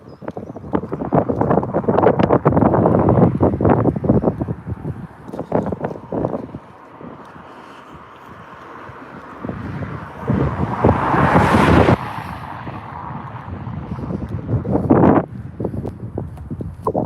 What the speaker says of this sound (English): Sorry, it's still a bit windy.